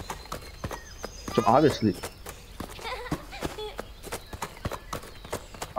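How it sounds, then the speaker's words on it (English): Footsteps in the horror video game REVEIL clop like horse hooves, a regular rhythm of sharp steps over several seconds, partly under someone talking. "My footsteps sounds like horses"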